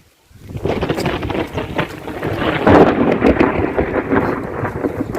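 Heavy monsoon rain in a Punjab village, a dense roar swelling with a rumble of thunder and gusts of wind buffeting the microphone, loud and close without speech.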